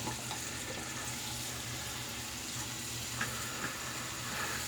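Warm water runs steadily from a household tap into a sink, a constant close hiss with no talk.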